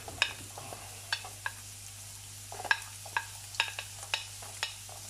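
Onions crackle in toasted sesame oil in a pan. Scattered sharp pops and spatters rise over a faint, quiet sizzle.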